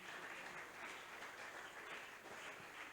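A church congregation at a Sunday service applauds steadily, a dense, even wash of clapping from many hands that holds at constant loudness throughout, with no voices rising above it.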